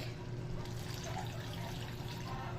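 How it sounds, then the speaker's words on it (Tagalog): Water poured into a pot of chicken sinigang, a soft continuous splashing and trickling over a low background hum, fairly quiet and unbroken. "Maglagay na po tayo ng tubig."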